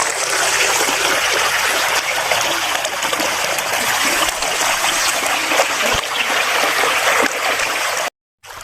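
A waterfall pours steadily in a rainy rural area, a dense continuous rush of falling water with no voices and a brief dropout near the end.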